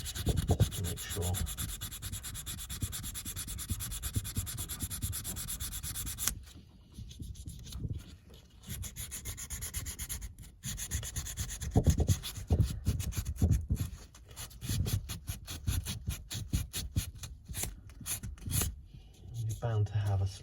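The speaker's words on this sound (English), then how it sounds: "just a little bit of sandpaper just to make sure." Sandpaper is rubbed by hand over a Porsche PADM engine mount part during a cheap sensor repair, producing close, scratchy strokes in an uneven rhythm with brief pauses, and a quiet voice now and then.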